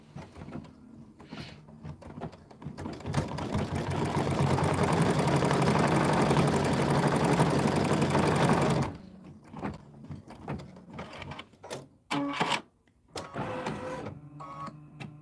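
A sewing machine stitches a tack-down line on a farm-themed mug rug, a dense whirring burst that builds for several seconds and then cuts off, followed by scattered handling clicks and rustles.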